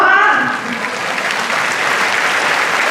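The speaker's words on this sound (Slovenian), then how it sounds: "Jaz predlagam še en aplavz za mamo Manko." Close, loud audience applause at a concert for Manka, a mother, after her musical performance, continuous dense clapping with a faint crowd murmur.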